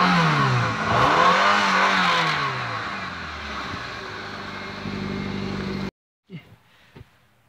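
A car engine revs loudly up close, rising and falling in pitch before settling into a steady high drone, then cuts off abruptly, followed by a few brief clunks and quiet voices.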